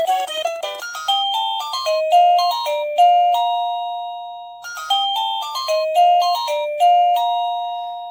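A Nestling wireless doorbell chime plays a bright, tinkling melody, then repeats it after a short pause, loud and clear with no voices.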